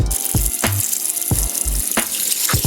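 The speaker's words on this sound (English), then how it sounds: "drain it, and then rinse it off in some fresh water" Chunks of beef are rinsed in fresh water, with repeated splashing pours and sloshing against a bowl or sink, loud and close, with no voices.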